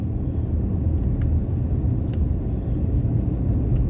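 Steady low road rumble inside a moving car, continuous engine and tire drone filling the cabin with a few faint clicks, no talking.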